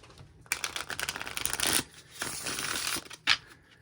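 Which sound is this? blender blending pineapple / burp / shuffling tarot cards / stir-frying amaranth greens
shuffling tarot cards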